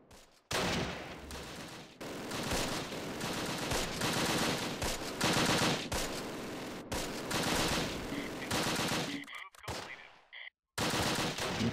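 Gunfire in the WWII tactics game Close Combat: The Longest Day, with dense, loud machine-gun bursts and rifle shots rattling almost continuously, broken by a few short gaps near the end.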